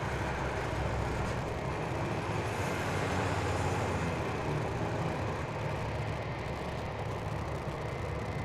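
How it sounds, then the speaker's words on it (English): Sky Chefs catering trucks roar at DFW Airport, a steady, loud, broadband engine rumble filling the scene without pause, blended with distant airport traffic noise. "You hear the Sky Chef's trucks roaring behind us."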